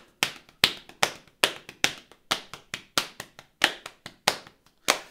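Drum flams played as a flam accent rudiment, alternating right and left hands: a steady run of about a dozen sharp, close strikes, each with a slight grace-note doubling, evenly spaced and fairly loud with no talking.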